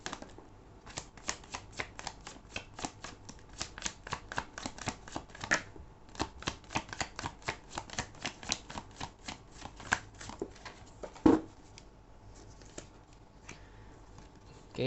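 Tarot cards being shuffled by hand up close, a long run of quick crisp riffling flicks with brief pauses between bursts and one sharper tap near the end.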